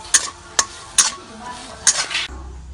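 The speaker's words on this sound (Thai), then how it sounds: "น้ำตาล พริกขี้หนูพริกไทยอ่อนใบมะกรูดซอยคั่วต่อนะครับ" Shrimp khua kling stir-fried with bird's eye chilies, green peppercorns, sliced kaffir lime leaves, fish sauce and sugar: four sharp spatula clanks against the pan over a soft sizzle, close and clear.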